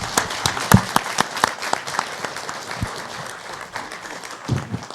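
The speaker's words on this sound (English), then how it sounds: "let's give them a round of applause" Conference audience applause at a disaster preparedness meeting, a burst of scattered individual claps from a modest crowd, fairly near and tapering off toward the end.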